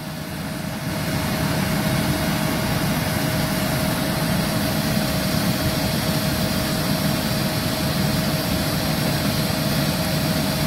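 A walk-in cooler's refrigeration unit, charged with R404 refrigerant, runs while pumping down. It gives a loud, steady mechanical hum with a constant pitched whine that swells up within the first second and then holds evenly, with no voices.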